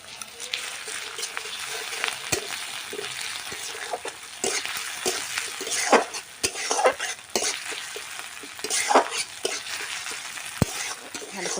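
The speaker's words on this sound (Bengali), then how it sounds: "আদা রসুনটাকে আমি ভালো করে ভেজে নিয়ে" Ginger-garlic paste stir-fried with onions in a pan for a Bengali egg curry: a steady broadband sizzle with repeated scraping spatula strokes and clinks throughout, fairly close, with no talking.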